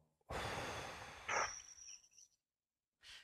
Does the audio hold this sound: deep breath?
yes